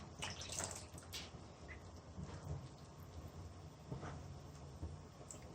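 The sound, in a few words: water poured into fried red lobia beans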